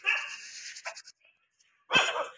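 A dog barks and yips in short, sharp bursts nearby, with a pause between the first cluster of calls and a final louder bark at the end.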